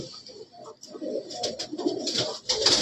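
Pigeons coo softly in a low, rolling murmur, with scattered chirps and background bustle rising toward the end.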